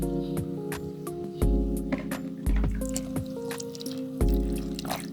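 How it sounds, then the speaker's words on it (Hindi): Water poured into dry milk powder while a spoon stirs it for sheer khurma, giving soft wet squishing and trickling with periodic spoon taps, under steady background music. "एक हाथ से हम इसमें पानी डाल रहे हैं तो दूसरे हाथ से हम चम्मच की मदद से इसको मिक्स कर रहे हैं"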